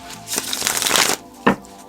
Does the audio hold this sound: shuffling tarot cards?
yes